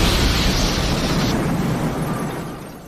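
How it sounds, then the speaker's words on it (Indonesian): A loud, rumbling explosion breaks through a wall, roaring with dense noise, then gradually fades out over a few seconds. "Karena ledakan itu, tembok di ruangan itu pun jebol."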